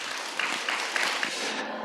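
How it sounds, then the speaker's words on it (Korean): Brief, steady clapping from a seated audience at a Buddhist expo meditation lecture, many hands together with a few sharper claps, fading out after about two seconds. "재밌는 분들이면 박수 한번 쳐주세요."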